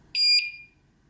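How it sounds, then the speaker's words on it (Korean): A single short, high-pitched electronic beep from a bicycle anti-theft alarm being armed, loud and close, then quiet. "삐 소리가 들리면 준비가 된 상태입니다."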